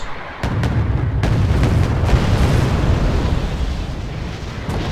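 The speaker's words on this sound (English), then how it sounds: "And the last of their rockets. And it hits the Challenger." Rocket strikes slamming into a British Challenger tank during a Wargame real-time strategy battle, a sustained loud rumbling barrage of booming explosions after a brief quiet start, with dense overlapping blasts and sharp cracks.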